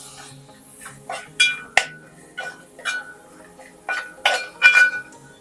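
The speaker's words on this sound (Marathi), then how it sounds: "ते संपूर्ण वाटण आपण यावरती काढून घेणार आहोत आणि चांगला मिक्स करून घेणार आहोत" Metal spoon clinking against a pan while ground masala paste is mixed for Malvani chicken sukka, a series of sharp irregular taps and scrapes in a quiet kitchen, with no talk.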